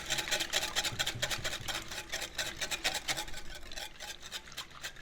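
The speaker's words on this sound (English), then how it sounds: "I'm going to keep mixing." Quiche filling with vegetables and bacon is mixed in a bowl. Quiet, quick rhythmic scraping strokes repeat steadily at close range, with no talking.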